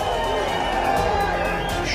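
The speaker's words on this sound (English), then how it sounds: "a mammoth crowd cheering Modi Modi" Large outdoor political rally crowd on Shimla's Mall Road cheering Prime Minister Modi, a dense, steady roar of many voices with faint chants running throughout, loud and continuous without pause.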